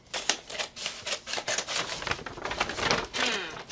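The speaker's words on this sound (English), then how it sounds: "I am just cutting on all the seams or the folds of the bag" Scissors or a blade snip and crunch rapidly along the seams and folds of a found-material bag, a dense run of close, crisp cutting clicks with no break.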